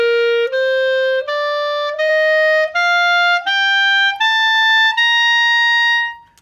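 A woodwind plays a rising series of about nine fingered notes, each held briefly and stepping upward to a high C, clear and alone with no talking.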